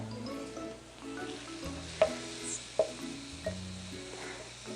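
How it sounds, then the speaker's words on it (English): Ground beef browning in a skillet, a soft steady sizzle with a couple of sharp scrapes or clinks from stirring, fairly quiet and close, with background music and no talking. "We're gonna start with a pound of ground beef, and we're just gonna put that in the skillet"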